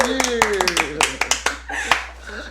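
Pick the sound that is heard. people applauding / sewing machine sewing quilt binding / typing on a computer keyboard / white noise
people applauding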